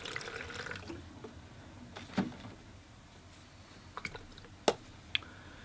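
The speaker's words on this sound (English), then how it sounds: "So I'll empty my water pail for some fresh water." Water being poured out of and back into a watercolor painter's rinse pail, heard as soft trickling and splashing with a few sharp drips and clinks near the end.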